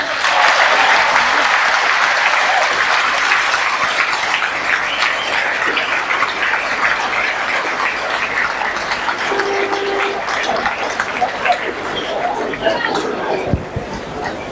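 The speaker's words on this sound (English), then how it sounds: "give a warm round of applause to Meath All-Ireland medalist at centre field in 1954, Tom O'Brien" A crowd at a Gaelic football match in Meath applauds a former All-Ireland medalist, a dense, loud, continuous wash of clapping sustained for the whole stretch with a faint voice briefly underneath.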